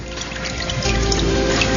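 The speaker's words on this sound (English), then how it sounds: "And you shake slightly as it's coming up. And the water will filter through." Water drains and trickles through the screen of a papermaking mold as it is lifted and gently shaken out of a vat of pulp, a steady close splashing that grows fuller partway through.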